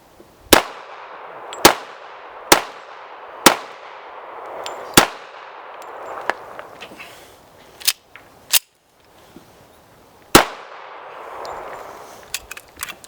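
A Norinco 1911 A1 Commander pistol fires about ten sharp, loud shots at an outdoor range, evenly spaced at first and then more irregular, each crack dying away quickly before the next one.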